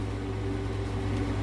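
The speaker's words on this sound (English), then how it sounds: "What you hear is the air conditioner." Steady, even hum of an RV rooftop air conditioner running inside a parked camper, with a low drone and mid-range whir holding constant throughout, close by and moderately loud, with no voices.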